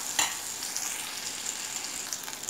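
Baby potatoes fry in hot oil with masala, giving a close, steady sizzle and crackle with a few brief stirring scrapes and no voices.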